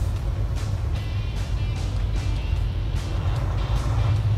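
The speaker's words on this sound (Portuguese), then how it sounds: "E deve ser ali onde tá saindo aquele caminhão." A truck pulling out of a factory gate, heavy engine rumble close by with passing-vehicle whooshes and faint hissing bursts over continuous road noise.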